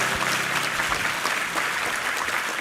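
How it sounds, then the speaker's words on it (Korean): A church congregation claps in thanks during a Sunday worship service, a dense, steady wash of many hands applauding together, loud and continuous throughout with no talking. "우리 하나님께 감사와 영광의 박수 올려드리겠습니다"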